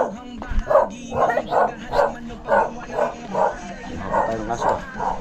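Dogs bark in repeated rhythmic bursts, roughly ten evenly spaced yaps at moderate distance, outdoors while materials are prepared for a right-of-way job site in the Philippines.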